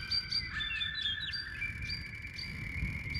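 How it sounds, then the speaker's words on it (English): A small bird sings a series of clear, high chirps and whistled trills, fairly faint and intermittent against a quiet background with a soft low rumble. "Have you ever wondered, dear Pedro, why a bird sings"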